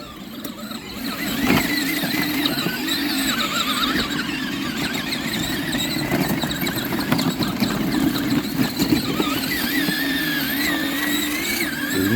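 A ride-on Tonka toy truck drives through farm mud with a continuous whining, squealing motor, close and fairly loud, its pitch wavering as it churns along for about twelve seconds.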